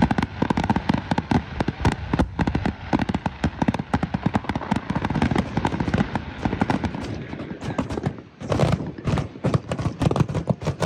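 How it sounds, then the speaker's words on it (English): Fireworks at a hot air balloon fiesta burst close by, a dense rapid barrage of sharp cracks and pops, loud and continuous, with a short lull before the crackling resumes. "the fireworks are right behind your RV."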